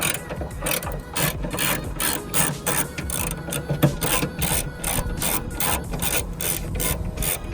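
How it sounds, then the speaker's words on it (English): Hand ratchet loosening the trunk bolts on a BMW F30 340i, a steady run of close, rapid clicking strokes in repeated bursts with light rubbing between them. "now we're gonna start by taking these 2 bolts off"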